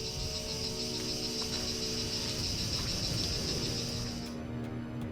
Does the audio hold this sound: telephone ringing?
no